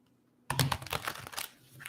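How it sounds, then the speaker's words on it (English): Deck of cards being shuffled, a sudden burst of quick rapid flutters and riffles lasting over a second, close and moderately soft, with no talking. "Let me just shuffle till one card comes out."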